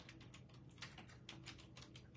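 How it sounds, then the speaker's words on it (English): Fingers tap quickly and continuously on a computer keyboard, a soft, close, busy patter of keystrokes with no talking. "I'm like the worst right now typing."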